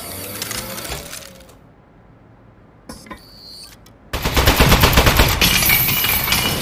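An automated sentry turret in the Portal-style game Aperture Desk Job fires a rapid rattling stream of bullets, first in a burst, then after a quiet gap a few clicks, and finally a loud sustained volley.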